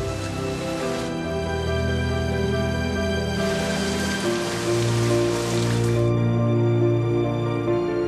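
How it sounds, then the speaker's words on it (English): Steady rain falling on surfaces, a dense continuous patter over a bed of sustained music or tones, with no speech. "With it comes the rain, which makes this place so lush and green."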